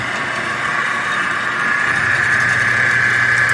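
A cheap Chinese-made bandsaw runs with a steady, even motor hum and a bright sustained whine, holding a constant, moderately loud drone with no talk.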